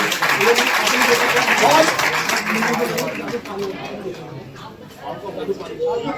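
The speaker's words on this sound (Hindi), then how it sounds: "कपिल सैनी जी, एक बार तालियों से अभिवादन।" An audience at a women's honour ceremony at a panchayat gathering in Delhi applauds to greet Kapil Saini, a dense wash of clapping mixed with crowd chatter that fades somewhat after a few seconds.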